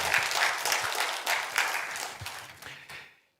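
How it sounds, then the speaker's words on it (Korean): A congregation in a church claps for several seconds, a dense, moderately loud round of applause that tapers off and stops abruptly near the end. "하나님께 영광의 박수를 드리겠습니다."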